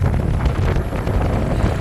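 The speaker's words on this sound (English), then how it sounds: "It's a bit windy" Strong wind buffets the microphone in a constant low roar while riding an Aipas F3 Max folding electric bike, rushing and gusting throughout as if moving quickly outdoors.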